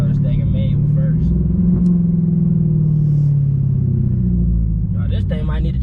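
A Dodge Charger Hellcat's supercharged engine drones loudly from inside the cabin as the car accelerates, its deep rumble rising and settling through gear changes while people talk over it.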